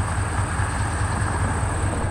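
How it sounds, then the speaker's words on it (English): A 1911 Soo Line Engine 730 steam locomotive built in Schenectady, New York, gives a steady low rumble with a constant high whine running through it. The sound stays loud and even for the whole stretch, and no one speaks. "I check out some train action in the 1911 Soo Line Engine 730 built in Schenectady, New York"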